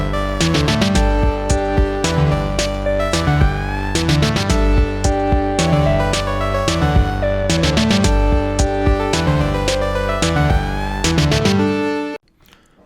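Chorus of an original indie game song: a mostly single-line melody with a few light chords over steady drum hits, playing loud and continuous before cutting off abruptly near the end.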